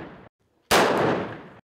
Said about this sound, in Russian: Но пара выстрелов